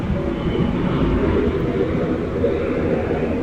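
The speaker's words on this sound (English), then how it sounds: "The planes are scrambling over Tel Aviv." Military jet planes scrambling over Tel Aviv: a steady, loud low rumble that holds evenly throughout, like distant jet roar filling the sky.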